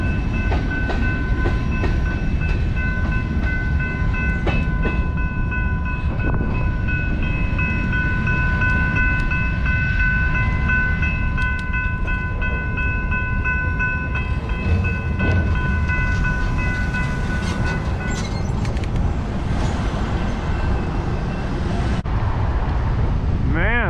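A train rumbles steadily past nearby on a railroad track running through the middle of a town, with a sustained horn-like tone and clattering wheels, loud and continuous throughout.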